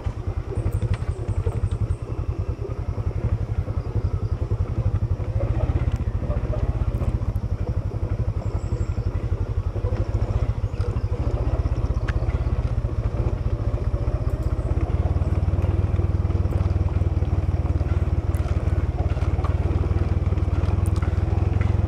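A motorcycle carrying a passenger runs steadily and close by on a coastal road, with a low continuous rumble and some rattling, and no talking.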